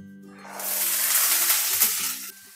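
Chopped vegetables tipped into a pan of fried ginger for a poha breakfast, bursting into a loud, steady sizzle that swells after a quieter start and drops back near the end, with no talk.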